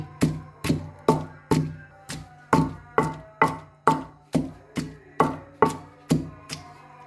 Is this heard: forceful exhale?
no